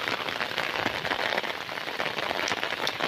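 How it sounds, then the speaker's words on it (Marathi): Heavy rain in India's Konkan region patters densely on a nearby surface, a continuous close hiss of drops with no voices. "असा पाऊस लागतोय आणि मी छत्री घेऊन आलोय"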